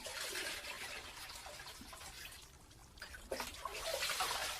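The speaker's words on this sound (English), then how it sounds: "Sangoro's wife, Chicano, washes the fish salted in spring" Salted fish are washed by hand in water, giving a quiet, continuous splashing and trickling that swells louder toward the end.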